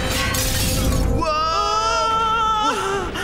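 Glass crystals shatter in the animated series Matt Hutter, a loud ringing break with a long bright tinkling cascade over a noisy, rumbling background.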